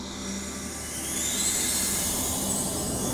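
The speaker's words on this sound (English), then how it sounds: "Here comes the rain." Rain begins in the video game Fable II, a broad steady hiss that swells louder after a moment and then holds constant, with no voices.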